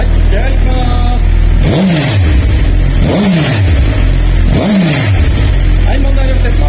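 Suzuki GSX-R1000 sport bike fitted with a Yoshimura dual-exit muffler, revved three times at a standstill; each blip rises sharply and falls back to a steady idle, loud and close, with no talk.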